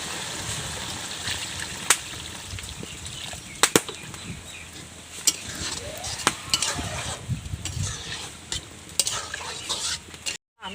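Sizzling Rohu fish curry masala, Kerala style, with water added to the pan, a faint bubbling sizzle broken by sharp scraping stirs and clanks of a utensil at irregular intervals.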